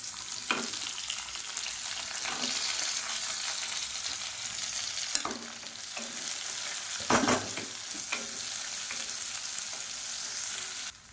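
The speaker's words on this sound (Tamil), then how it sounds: "இப்போ வெங்காயம் நல்லா வதங்கிடுச்சு." Onions sizzle and fry steadily in a hot pan, with occasional scraping stirs of a utensil; no one speaks.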